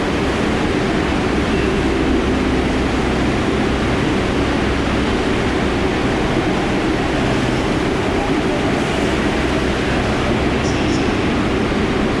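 A New York subway shuttle train at Times Square rides along with a constant, loud rumble and broad hiss from inside the car, steady and unbroken throughout.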